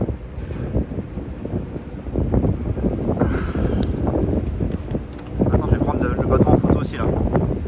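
Gusts of wind buffet an outdoor microphone at a scenic wonder, a loud low rumble that swells and surges in waves, with talk partly buried beneath the roar.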